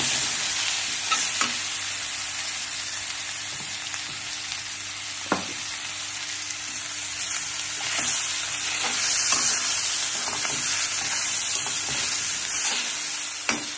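A spicy potato and eggplant vegetable mix sizzles steadily in a hot pan as it is roasted, with occasional scrapes and taps of a spoon stirring it, close and continuous.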